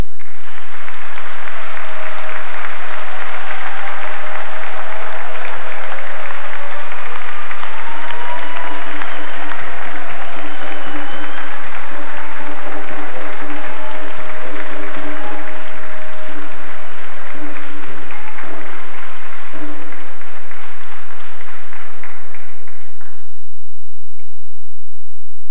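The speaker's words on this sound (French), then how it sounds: "On peut les applaudir." Congregation in a church applauds newly ordained priests at an ordination Mass; sustained, loud, even clapping from a large crowd rolls on for over twenty seconds before cutting off sharply, with faint voices underneath.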